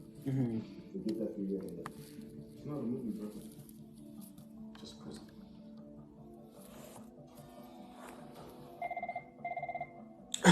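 A desk telephone rings in the background of an office, two short electronic ring bursts near the end, after a stretch of someone talking.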